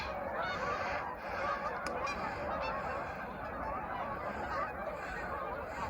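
A flock of geese honking repeatedly at a distance at dusk, overlapping calls over a steady outdoor background with no voices.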